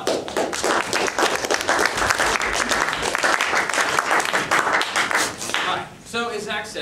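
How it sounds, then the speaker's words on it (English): An audience at a club meeting claps loudly and steadily for a speaker, a dense burst of applause that fades out near the end as a voice begins. "give him a big round of applause."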